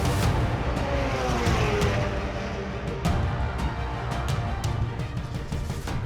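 Autonomous race car at speed on the Indianapolis Motor Speedway oval, a loud continuous engine and tire roar with wind rush holding steady throughout, faint bursts of rising pitch as it sweeps by.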